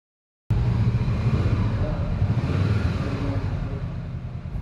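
Motorcycle ridden slowly with light rear brake, speed held on clutch and throttle, giving a steady close low engine rumble and wind noise that starts abruptly and runs unbroken to the end.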